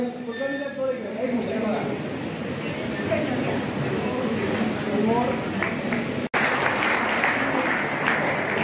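An audience claps at a felicitation during an annual gathering, with broad, steady applause under a voice speaking over it; a brief cut is followed by louder, brighter clapping.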